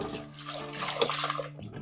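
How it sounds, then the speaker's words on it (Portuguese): Tap water runs to rinse a cake pan, a splashing, hissing stream that shifts as the pan moves under it, close and moderately loud. "Eu passo um pouquinho de água para tirar"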